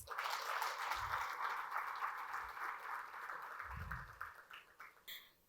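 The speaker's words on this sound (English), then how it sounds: "warm round of applause." Audience applause for panelists at a financial inclusion report launch: a sustained wash of clapping at moderate distance, steady then tapering off near the end, with a few low thumps underneath.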